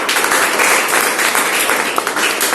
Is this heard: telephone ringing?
no